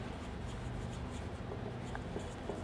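Pen or pencil writing out program code by hand on paper, a steady scratchy scribble continuing close up at low level for the whole stretch, with no talk over it.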